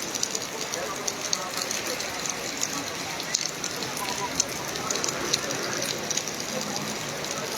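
Steady heavy rain hisses across surfaces near the flooded Marikina River, a dense continuous wash at even volume with scattered louder drops and no pauses.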